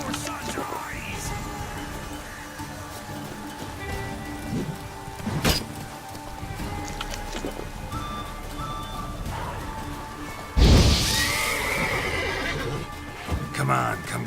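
Horse neighing in the rain in The Witcher III, a loud whinny bursting out near the end over steady rainfall, with faint hoof clops and game voices talking in the background.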